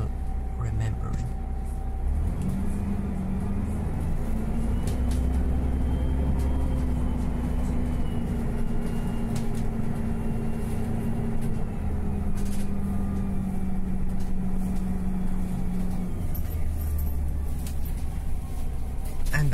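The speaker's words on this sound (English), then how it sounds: "I'll just let you enjoy the sounds of this bus for a moment as its final remembering." Old Perth city bus standing at the end of its route in Leederville, its loud rear engine rumbling steadily at idle throughout, with a low droning hum and some background noise.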